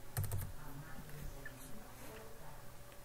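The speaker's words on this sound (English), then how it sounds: "Then in the next cell over, so click Tab, you're going to type in 2011." Soft clicks of typing on a computer keyboard while entering data in an Excel spreadsheet. A quick cluster of keystrokes comes first, then a few scattered taps, all faint and close against quiet room tone.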